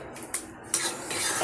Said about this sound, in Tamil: போட்டு நல்லா மிக்ஸ் பண்ணிவிடணும்.